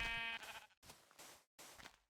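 A sheep in a video game bleats three times in quick succession, loud and close, each cry a wavering, nasal call separated by brief silences.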